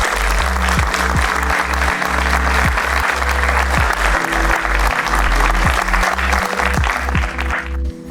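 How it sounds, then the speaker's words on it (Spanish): Congregation applauding inside a church at a worship event, a steady dense wash of clapping over loud music with a thumping beat, continuing throughout before easing off at the very end. "Por favor, dése un fuerte aplauso a usted también."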